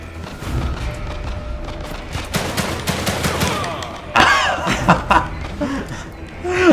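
Rapid semi-automatic gunfire in the survival horror game The Evil Within 2, sharp repeated shots with ringing impacts, growing louder and denser toward the end, heard under a player's chatter and laughter.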